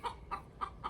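A farm rooster gives four short, evenly spaced clucks about a quarter second apart, close and moderately loud, with no talk.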